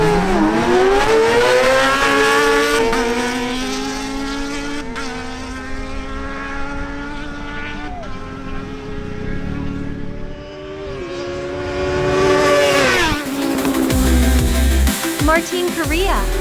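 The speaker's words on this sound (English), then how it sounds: "Christian Jelz on his Yamaha R6 faces Martin Correa on his Kawasaki Ninja Z1000SX." Yamaha R6 and Kawasaki Ninja Z1000SX motorcycles drag racing, engines screaming loud and steady through rising gear changes, with a fresh surge of revving near the end.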